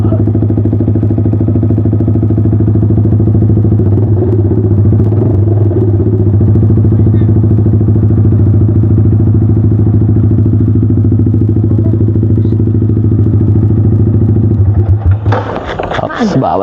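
A Yamaha R15 V3 motorcycle engine idles loud and close with a steady buzzing drone, then cuts off near the end into clattering and handling noises.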